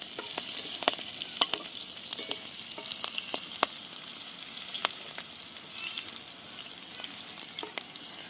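Slit green chillies frying in hot oil for a water spinach stir-fry, a continuous crackling sizzle with scattered sharp pops and spits, close and alone.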